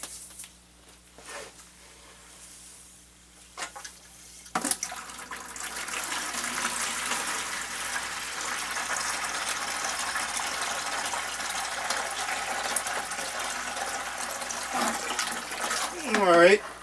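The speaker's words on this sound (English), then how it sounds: "Alright, I'm siphoning the water out." Cloudy water from a home well acid neutralizer tank is siphoned out through a garden hose, starting quietly before a steady rushing gush of liquid takes over and runs continuously to the end.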